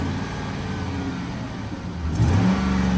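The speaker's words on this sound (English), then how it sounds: "But when you rev it up," A 2012 Chevrolet Silverado 4X4 extended-cab pickup idles steadily, then its engine revs up with a louder rising surge near the end, heard close and alone without talk.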